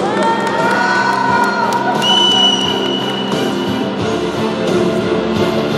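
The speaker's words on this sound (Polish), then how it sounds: "Najlepszy doping w Lidze Europy również." Fans cheer and shout loudly and steadily at the closing ceremony of a children's football tournament, with high children's voices and whoops rising from the dense crowd noise and one sustained whistle-like tone.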